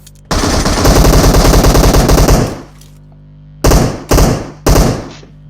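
Automatic gunfire in the video game PUBG Mobile: a long loud burst of rapid machine-gun shots, followed after a pause by three shorter bursts, with no talking over it.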